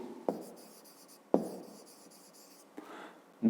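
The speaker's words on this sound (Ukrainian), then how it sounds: "Записуємо." Handwritten numbers are put down with a pen on paper during a fifth-grade maths exercise: a few sharp scratchy strokes at the start, soft continuous scribbling in between, and a final burst of stroke noise, close and quiet with no talk.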